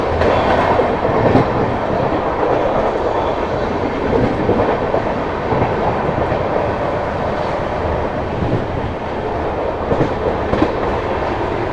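Heard from aboard the Tejas Rajdhani Express as it passes through Sawai Madhopur Junction without stopping: a loud, continuous close rumble with rhythmic clickety-clack of wheels over the rails throughout.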